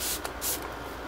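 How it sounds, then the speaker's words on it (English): Two quick hissing bursts of MAC Fix Plus setting spray misted onto a made-up face, short and close, in an otherwise quiet room. "it's really great to set it with the Fix Plus spray"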